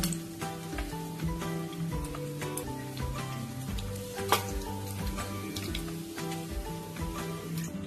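Dried loitta fish fries in hot oil until reddish, giving a continuous close crackling sizzle with occasional stirring clicks, under soft background music and without speech.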